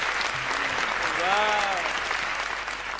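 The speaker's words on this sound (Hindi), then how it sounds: "ताली बजाओ।" Audience at a Hindi comic poetry gathering clapping in a steady broad wash of applause, with voices and a brief rising tone over the clapping.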